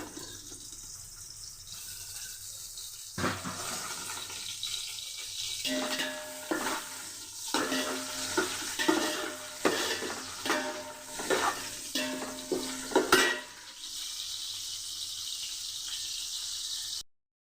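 Onions sizzle in hot oil with biryani masala spices, frying and being stirred in a pan; the crackle swells and fades with clinks of stirring, fairly close, with no talk.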